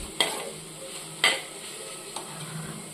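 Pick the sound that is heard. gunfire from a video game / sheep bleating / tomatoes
tomatoes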